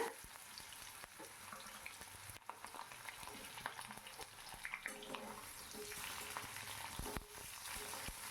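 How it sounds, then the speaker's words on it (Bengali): Potato pieces fry in hot oil with cumin and bay leaf, a steady, close, continuous sizzle with small crackles and occasional stirring scrapes throughout. "প্রথমে জিরে তেজপাতা দিয়ে আলুগুলো ছেড়ে দিলাম"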